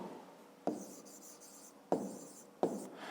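Pen writing by hand during a fifth-grade maths exercise: three short scratchy strokes, each starting with a sharp onset and trailing off, fairly faint and close, with quiet room tone between them.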